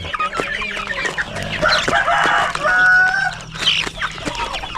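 A rooster and hens cluck and call in a farmyard. Busy overlapping clucks and short crowing notes rise and fall close by for several seconds, with rustling background noise and no talking.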